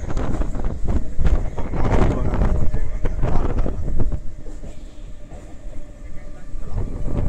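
Rumbling, rattling Mumbai local train noise with heavy wind buffeting the microphone, steady and loud throughout, with a rhythmic clatter underneath.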